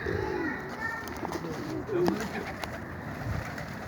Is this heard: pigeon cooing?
yes